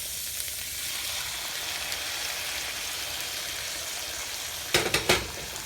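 Broth poured into a hot wok of stir-fried rice vermicelli, giving a loud continuous sizzle and hiss, ending in three sharp clacks of a utensil against the pan.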